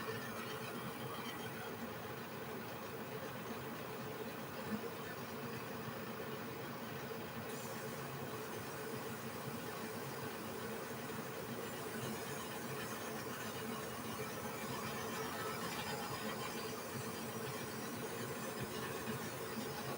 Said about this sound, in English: I really wish I didn't have that compressor in this room